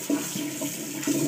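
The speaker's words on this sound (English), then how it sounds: "now we need to wash the pork" Raw pork is rinsed under running water, a steady, close splashing and gushing from the tap with slight surges in the flow.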